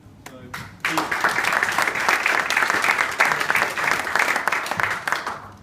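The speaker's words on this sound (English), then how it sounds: "Big applause to Steve again." After a brief voice at the start, applause from an audience at a team meeting breaks out and continues as a dense, steady burst of clapping.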